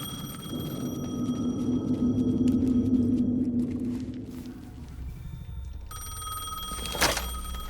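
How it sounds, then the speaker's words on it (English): A telephone rings in the video game Alan Wake 2, a warbling electronic tone over a low droning rumble that swells then fades, followed by a sharp click near the end. "The phone again."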